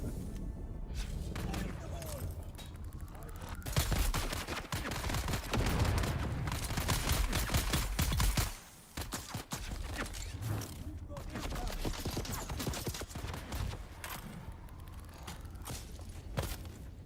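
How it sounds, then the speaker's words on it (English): Rapid machine gun fire in Dune Awakening, long stretches of dense automatic bursts with short pauses, up close and loud, with a voice talking over it at times. "Damn machine gun asshole"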